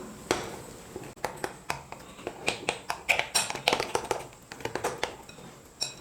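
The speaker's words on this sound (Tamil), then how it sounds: "எல்லாத்தையும் சேர்த்து நல்லா மிக்ஸ் பண்ணி விட்டுக்கலாம்." Murukku dough being mixed by hand with chilli powder and spices in a home kitchen, giving a run of soft, irregular taps and light knocks against a bowl, close and steady with no talking.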